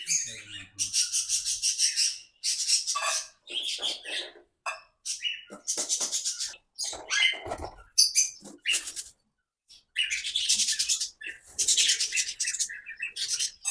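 Parrots in an open aviary give bursts of high, shrill chirps and squawks, coming in clustered runs separated by brief quiet gaps, fairly close and lively.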